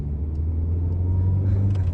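Holden Calibra, a Euro-market car, heard from inside while driving: a steady low engine and road rumble that holds constant and close, with a faint rise in noise near the end.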